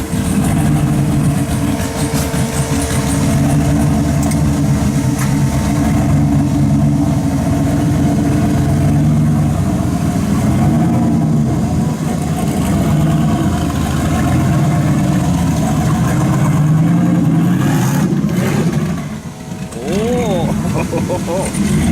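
LS2 V8 swapped into a Porsche Boxster, running in limp mode stuck in third gear: a loud, constant low engine drone heard from inside the car, with a brief dip near the end.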